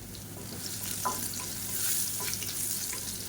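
Crushed garlic and a pinch of asafoetida fry steadily in hot oil in a pan, giving a continuous close sizzle with occasional small pops and stirring scrapes.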